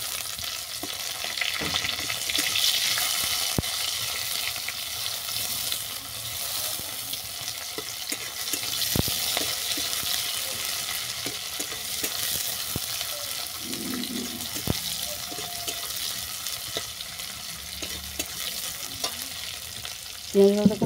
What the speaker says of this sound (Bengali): দিলাম কুচানো পেঁয়াজ,